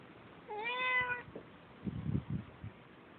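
A cat meows once in a yard, a clear, fairly loud drawn-out cry, followed by faint low thumps and rustling nearby.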